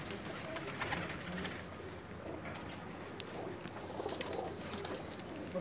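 Pigeons in Jeddah, Saudi Arabia, coo softly in a low, murmuring chorus against a steady outdoor background, with faint fluttering and shuffling sounds.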